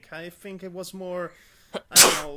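A single loud sneeze bursts out at the end, right after a stretch of casual conversational speech from a podcast host.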